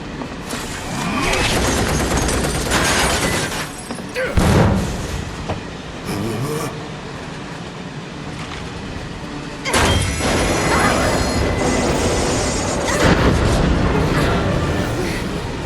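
Train running in Final Fantasy VII Remake, with loud rumbling and clattering wheels on the rails, heavy metallic bangs and surges, and a brief quieter stretch midway before the roar returns.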